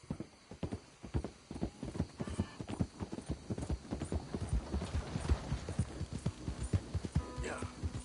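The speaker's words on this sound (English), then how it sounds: "Hope I never have to be on that horse again, dang animals." Rhythmic horse hooves clip-clop steadily at a trotting pace in Red Dead Redemption, with a brief whinny near the end and low ambient hum underneath.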